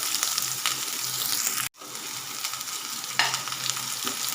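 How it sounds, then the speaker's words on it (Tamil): Big sliced onion sautéing in a pan, a steady close sizzle with scraping stirs, a brief dropout midway, then the frying resumes louder for the last second. "ஒரு பெரிய வெங்காயம் அதையும் இதுக்குள்ளே சேர்த்து நல்லா வதக்கிக்கலாங்க"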